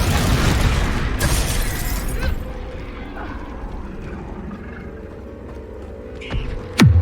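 Confringo blasting spell in Hogwarts Legacy: a loud explosive burst opens, fading into a rumbling decay, with a few smaller cracks and a sharp final blast near the end.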